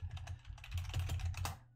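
Someone types on a computer keyboard in a quick, uneven burst of clicking key presses at close range, with a low hum underneath and no talking.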